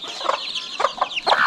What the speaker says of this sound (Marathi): हे बघा, ही पिल्लं बघा